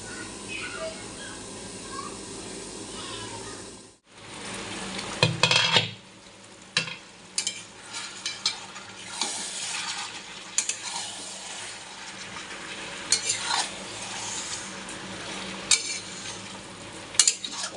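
Chicken fries in a pan while being stirred, a steady sizzle after a brief lull, then punctuated by frequent scraping and clinking of a utensil against the pan.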